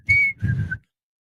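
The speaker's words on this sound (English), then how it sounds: "I consider myself a good whistler." A person whistles a short two-note phrase, a bright sustained tone followed by a lower held note, close and clear with no talking.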